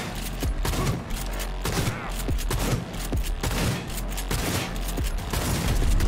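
Rapid gunfire from the video game Cyberpunk 2077: dense, repeated bursts of shots and booming impacts fill the whole stretch, loud and close, with no pauses between volleys.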